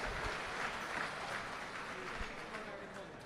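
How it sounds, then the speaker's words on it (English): A crowd at Ohsweken Speedway's Night of Champions applauds the Middleport Mechanical Thunderstocks, a steady wash of clapping from a distance, with voices speaking faintly under it. "Give them all a big round of applause."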